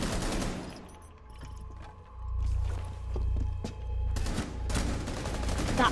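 Rapid bursts of gunfire in the shooter game Rainbow Six Siege, continuous rattling shots with a loud opening volley and pulsing waves of fire, close and dense.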